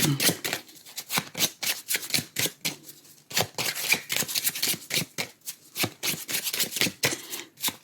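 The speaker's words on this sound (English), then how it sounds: "the deck I'm shuffling here is the Tarot of the Divine" A Tarot of the Divine card deck is shuffled by hand, producing rapid, repeated riffling bursts and soft slaps, close and crisp, with no talking.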